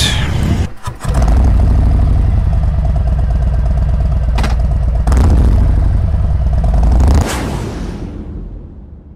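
A Harley-Davidson Sportster Nightster motorcycle rumbles loudly and steadily with a deep engine drone, gives a brief clatter early on, and fades away at the end.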